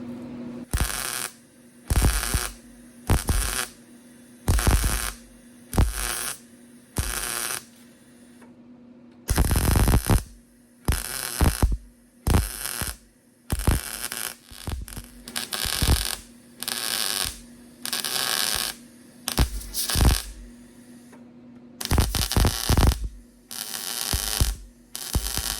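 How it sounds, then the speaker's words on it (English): Bursts of MIG welding laying a solid seam on the floor pan of a 1972 Volkswagen Super Beetle, a couple dozen crackling runs of one to two seconds each, separated by short pauses over a steady electrical hum, close and loud. "Now I'm going to weld it solid."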